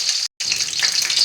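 Mustard seeds spluttering in two spoons of hot coconut oil in a kadai, with a pinch of cumin: a steady, close crackling sizzle that cuts out for a split second, then returns just as dense.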